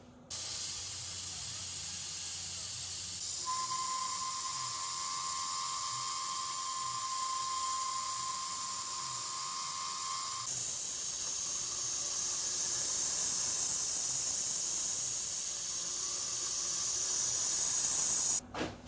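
A machine tool bores a hole into a steel base plate with a continuous hiss and a steady high whine that stops partway, then harsher grinding hiss continues.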